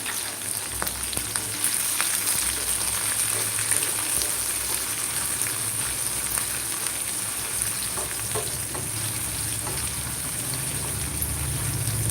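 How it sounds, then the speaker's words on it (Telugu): Chopped onion fries in hot oil in a pan for a Telugu prawn masala curry, giving a steady, close, continuous sizzle with occasional stirring scrapes. "ఇలాకి కట్ చేసుకున్న ఒక ఆనియన్ కూడా వేసుకొని ఫ్రై చేసుకోవాలి"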